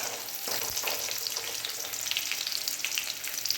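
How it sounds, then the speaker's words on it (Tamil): Garlic frying in traditional wood-pressed oil for rasam makes a steady, close, crackling sizzle with small bursts of spitting, heard alone throughout. "அந்த அளவுக்கு நல்லா பூண்டு செவக்க விட்டு நல்லா எடுத்து ரசத்தை உள்ளே ஊற்றிட்டோம்னா"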